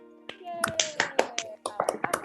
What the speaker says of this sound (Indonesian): Kasih tepuk tangan dulu semuanya dong.